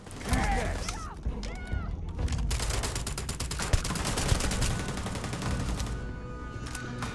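Gunfire in the Starfield video game, a rapid, sustained volley of sharp shots with some shattering and mechanical clatter, loud and close, following an opening burst of electronic robotic sounds.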